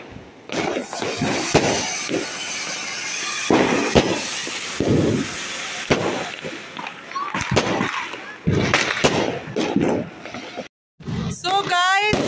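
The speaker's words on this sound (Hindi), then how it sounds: "हो गई है दिवाली, पटाखे फोड़ लिए" Diwali firecrackers burst on a rooftop during a festival night, sharp loud cracks and pops scattered through the clip amid crackling, with people talking and children's voices throughout.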